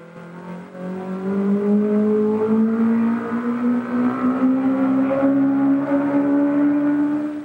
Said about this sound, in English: on a lake in Florida where an outboard goes round and